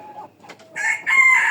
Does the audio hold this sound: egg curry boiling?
no